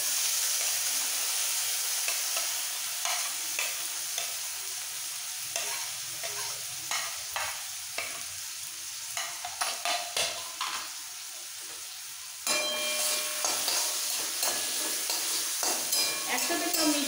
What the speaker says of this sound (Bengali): আমি যে গ্রেট করে রেখেছি পেঁয়াজ, রসুন, আদা, লঙ্কা সব একসাথে আমি দিয়ে দিচ্ছি